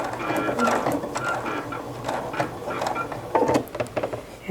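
A sewing machine stitches the top edge of a fall-themed oven mitt, a busy mechanical whir running the whole time with small clicks and bumps as the fabric is guided.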